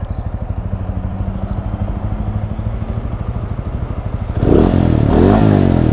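A TVS Apache 200 motorcycle engine idles close by with a steady rumble, then revs hard and loud near the end with a rising roar. Nobody speaks.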